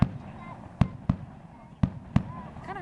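Canada Day fireworks burst in Orillia, Ontario, on July 1, 2011, with five sharp booming explosions in an irregular sequence, two of them close together, while spectators chat nearby.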